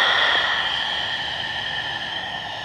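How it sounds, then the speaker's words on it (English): Pranayama exhale through a constricted throat, a steady ocean-like breathy hiss held close and loud for a few seconds, slowly fading, with no speech. "Exhale, ocean sound."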